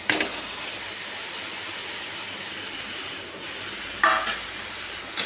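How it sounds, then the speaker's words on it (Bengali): Potatoes fry and are stirred through a spice paste in a pan, a steady broadband sizzle running throughout with sharper scraping clatters near the end. "ভালো করে কষতে হবে মশলাটাকে আলুটা দিয়ে দিচ্ছি এখন"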